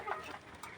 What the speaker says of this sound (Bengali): দুইটা দেশি মুরগি।